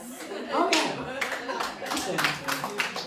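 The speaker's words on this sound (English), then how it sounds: "Oh, that got an applause." A comedy club audience breaks into scattered clapping mixed with chuckles and laughter, uneven bursts of hands against a murmuring crowd, fairly close and lively.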